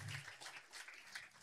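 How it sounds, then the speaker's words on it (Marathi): Audience in a college hall claps together at an awareness program, a brief, dense burst of applause from many hands. "आपण सगळे एकमेकांसाठी टाळ्या वाजवूया"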